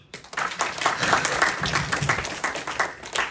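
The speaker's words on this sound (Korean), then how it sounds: "박수." A church congregation at a Sunday sermon breaks into applause that starts quickly and builds into steady, moderately loud clapping until the end.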